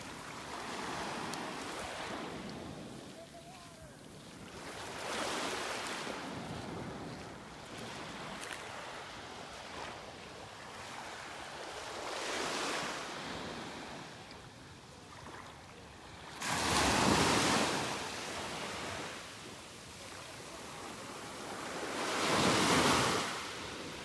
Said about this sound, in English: listening to the waves.